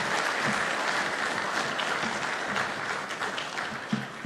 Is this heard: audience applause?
yes